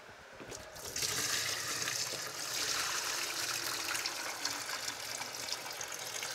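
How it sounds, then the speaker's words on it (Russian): Water is poured out of a glass kettle while rinsing squid: a steady, close splashing stream that starts after a short quiet moment and runs at an even, moderate level. "Вот прошло какое-то время, может быть минута, и я снова эту воду выливаю."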